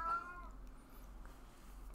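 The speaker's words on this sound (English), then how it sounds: "my cat is on his catnip tonight, so you hear him in the background." A male cat high on catnip meows once near the start in the background, faint and brief, followed by quiet room noise and a low steady hum.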